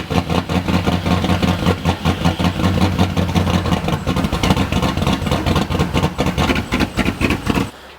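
A modded turbo Pontiac GTO with straight pipes runs close by, its engine giving a rough, pulsing idle with rhythmic, lopey bursts that hold steady before cutting off at the end.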